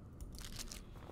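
A granola bar is eaten in The Long Dark survival game: a few quiet, crisp crunches and crackles over a steady low background, with no voices.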